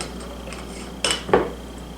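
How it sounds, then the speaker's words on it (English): Two brief utensil clinks against a bowl while Worcestershire sauce is mixed into raw hamburger meat for hamburger steak, close and fairly faint over a quiet kitchen background. "So the W sauce, 1 teaspoon, and we'll mix that all together."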